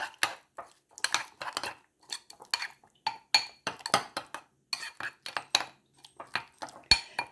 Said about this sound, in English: Get them stirred up real quick.